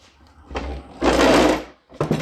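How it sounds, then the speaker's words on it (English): John Deere D130 riding mower deck running, brief close whirring bursts, a short rise, then a louder sustained roar for about a second and a quick final pulse. "Okay, there's the mower deck going like this."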